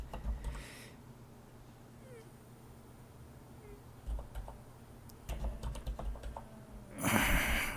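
Keystrokes clatter on a computer keyboard while working in the Emacs editor, loud bursts of rapid typing at the start and end with scattered quieter taps between, over a low background hum.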